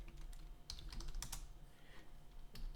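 Keystrokes on a computer keyboard while entering a command in AutoCAD software, a quick run of close, crisp clicks in two short bursts over a low steady hum.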